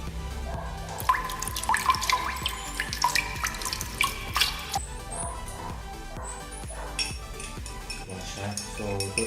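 Water pours and splashes steadily into a container in a home kitchen while a calamansi drink is being made, a continuous trickling stream with small drips and clinks, with no talking.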